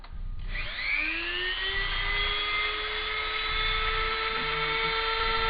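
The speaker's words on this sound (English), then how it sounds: "So let's turn on the Dremel." A Dremel rotary tool spins up to a steady high-pitched whine while cutting a decorative groove into wood veneer, holding a close, sustained tone throughout.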